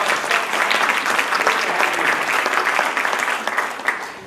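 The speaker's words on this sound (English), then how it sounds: "round of applause." Audience applause welcoming a mayor at a liveable cities event in Melbourne, dense even clapping from a sizeable crowd that holds steady and begins tapering off toward the end.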